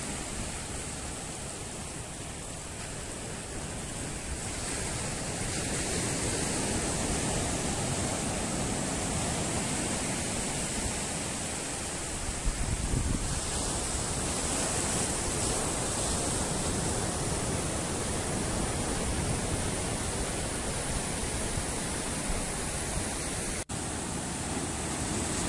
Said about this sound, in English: Just listening to the sound of the sea, first thing in the morning